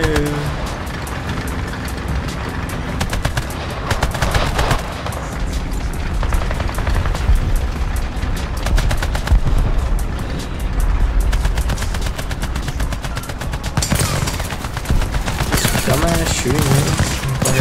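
Rapid bursts of video game gunfire with a few heavy booms run steadily throughout, loud and dense, while players talk over the shooting.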